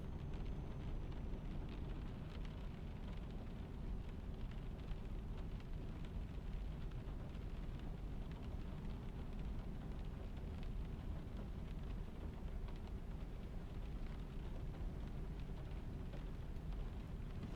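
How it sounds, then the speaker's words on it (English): Heavy rain in Euro Truck Simulator 2 pours down in a constant, low rumbling roar, a steady dense patter with no breaks and no voices. "the rain's coming right down right now"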